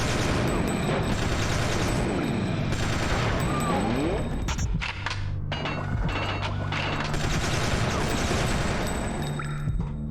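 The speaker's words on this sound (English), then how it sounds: "assault rifle out" Assault rifle fire in the video game Fear Effect 2: dense, loud rapid bursts of gunfire with crashing impacts and a short lull midway before the shooting resumes.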